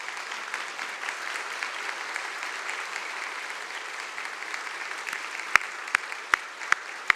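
A church congregation applauds in a sustained, even wash of clapping from many hands, with a few sharper, louder claps standing out near the end.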